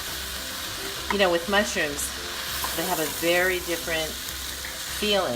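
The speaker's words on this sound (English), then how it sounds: "Nice and sauteed." Mushrooms sautéing in a pan for a vegan mushroom barley soup, a constant sizzle and crackle running underneath a person talking.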